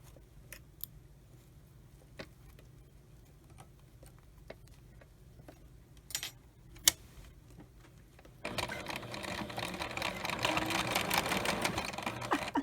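A sewing machine stitching lace on a craft roll, starting with scattered clicks and taps of setup, then running loudly and steadily as a close, continuous mechanical whir for the last few seconds.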